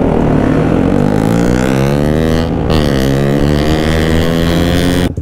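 A BMW S1000RR sport motorcycle revs hard and loud up close, its engine note climbing and falling in strong harmonic sweeps, with one brief dip in the middle before a sharp cutoff at the end.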